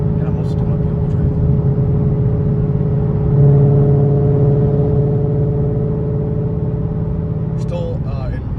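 A Ford Shelby GT500 engine drones steadily with a low, even hum throughout a point-of-view drive, swelling slightly in the middle, while brief voice sounds rise at the start and end.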